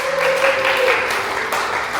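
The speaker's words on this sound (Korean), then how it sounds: "우리 박수로 환영하도록 하겠습니다." Church congregation applause welcoming guests at a Sunday worship service, a steady patter of clapping filling the room for two seconds.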